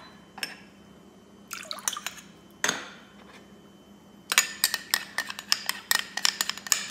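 Glass noodles dropped into soaking liquid in a kitchen, with scattered soft splashes and drips followed by a run of quick, close clinks and taps, no voices.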